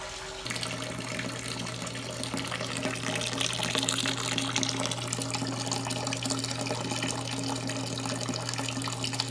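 Wort and sparge water draining from a mash tun through the grain bed while brewing a smoked maple porter, a steady continuous trickling flow with a low hum beneath, no talking.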